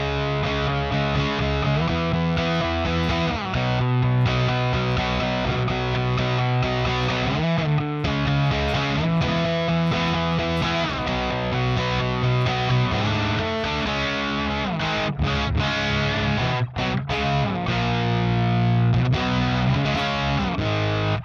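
A heavily distorted electric guitar plays sustained, thick chords and low notes continuously through an amp, with a fuzzy, saturated tone that turns flubby on the low strings, and no talking.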